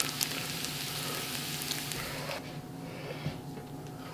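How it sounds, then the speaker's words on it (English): Smoked bacon frying in a pan, a soft continuous sizzle with faint pops, close but quiet, fading partway through as the crackle thins out. "Doesn't take long to get a really nice fry on these."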